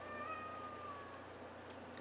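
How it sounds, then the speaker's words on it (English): A pet cat meows several times in a row, thin drawn-out cries heard in the background of a quiet indoor room with a steady low hum underneath. "You can probably hear my cat in the background meowing"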